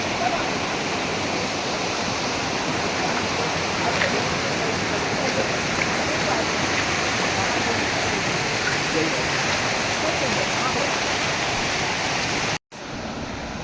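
A small waterfall at Kunduvalo, birthplace of the Valva river, pours in a constant close roar of churning water, holding steady until a sudden brief dropout near the end before resuming.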